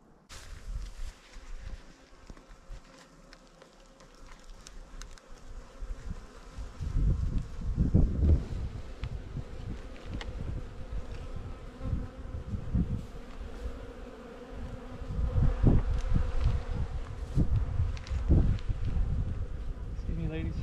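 Carniolan honey bees buzzing in a swarm as they are moved into a hive, a steady droning hum that swells and fades with nearby bees passing close, mixed with light rustling and occasional speech.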